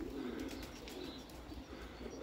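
Pigeons in a crowded loft coo in a steady low murmur, with faint chirps and occasional wing flaps mixed in, soft and continuous with no talking.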